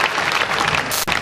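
Applause for Sunil ji fills a Hindi kavi sammelan poetry recital, a steady hall-wide clapping that breaks off abruptly near the end with a short tail.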